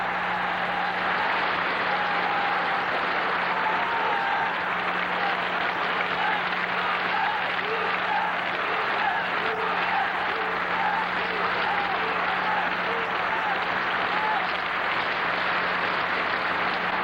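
Steady, dense applause mixed with a crowd's murmur fills a weightlifting hall at the 1986 Goodwill Games. The clapping is even and sustained from start to finish.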